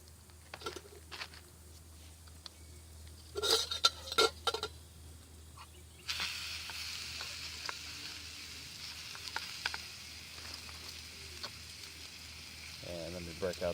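Bacon begins to sizzle in a pan, a soft steady hiss that swells after a few clinks and knocks of utensils and cookware, with quiet breathy sounds from a person nearby.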